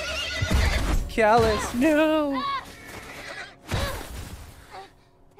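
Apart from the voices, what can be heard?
horse neighing in video game The Last of Us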